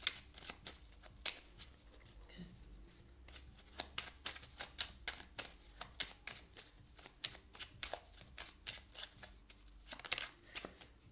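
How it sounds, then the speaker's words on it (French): Oracle cards are shuffled and drawn by hand, a long run of quick, soft, papery riffles and flicks in irregular bursts, close and quiet, with no talk. "Je vais terminer avec une carte du petit oracle de la mission de vie"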